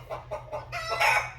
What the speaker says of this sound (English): this is what it would sound like if there's chickens running around in the background